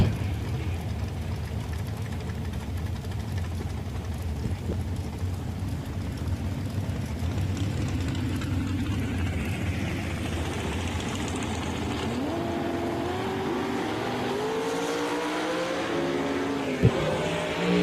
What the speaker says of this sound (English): Dragster trying to get there